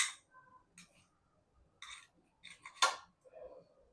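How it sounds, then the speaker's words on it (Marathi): Quiet, sparse clicks and taps of a knife cutting tomato on a cutting board, a few irregular cuts with short gaps of near silence. "टमाटर आपल्याला असं कापून घ्यायचं आहे"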